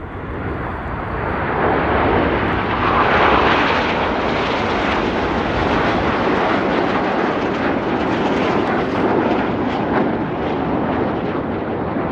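Red Arrows jets roar overhead in a loud, continuous broadband wash during a flying display at an air show, the jet noise swelling slightly and then holding steady.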